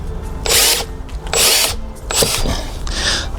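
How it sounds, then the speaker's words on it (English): Screw being tightened with a power drill while fitting a Ring Doorbell Plus, four close, loud whirring bursts of the driver, each about half a second, separated by brief pauses, no speech. "it seems like we need to tighten this screw"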